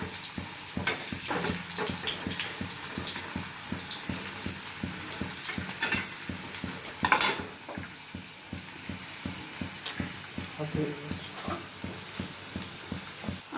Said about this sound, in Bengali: একটু ভাজা হলে তবে আমি এতে মশলা দেবো